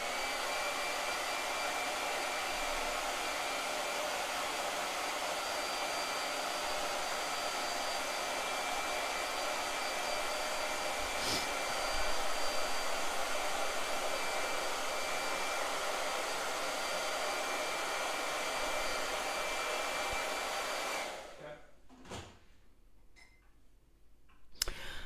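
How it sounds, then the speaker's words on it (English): A blow dryer runs with a steady, loud whooshing hum for about twenty seconds, then cuts off, leaving a few faint clicks. "I got another blow dryer."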